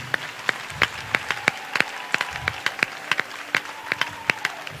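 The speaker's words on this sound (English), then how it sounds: "Oh, clap for Jesus." Worshippers in a church service clapping together in a brisk, even beat, crisp and prominent hand claps repeating throughout with a faint murmur underneath.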